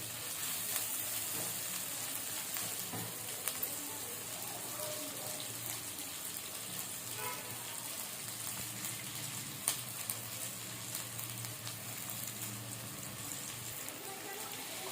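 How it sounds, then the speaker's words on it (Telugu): Spice masala for gongura chicken curry frying in a pan with a soft, steady sizzle, faint and even throughout, under low background noise. "పచ్చివాసన పోయేంత వరకు వేయించుకోవాలి."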